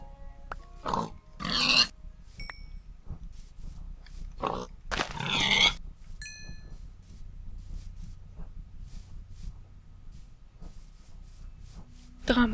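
Pig grunts and oinks from the video game Minecraft, several short bursts in the first half, fairly near and alone over quiet ambience, with scattered small game chimes.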